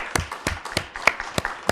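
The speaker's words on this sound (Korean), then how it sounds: "박수로 환영하겠습니다." A church congregation claps in welcome for a newcomer, with scattered, uneven hand claps from a small group over a couple of seconds.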